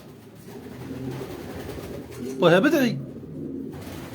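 Pigeons at a breeder's loft coo, with one clear, close coo rising in the middle over a background of murmuring and a voice talking.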